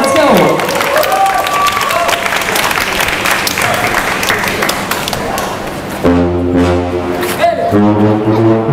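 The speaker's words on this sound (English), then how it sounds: "Let's give them a big applause." A live audience applauds and cheers for a brass band, dense clapping filling the room with a voice over it, then sustained brass tones enter near the end as the clapping thins.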